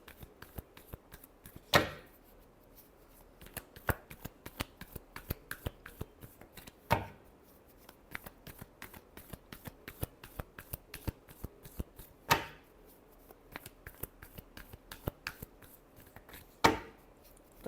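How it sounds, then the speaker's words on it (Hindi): Tarot cards being shuffled by hand: rapid, crisp riffling clicks in long runs, with several louder snaps and slaps spaced a few seconds apart, close and alone. "last shuffle"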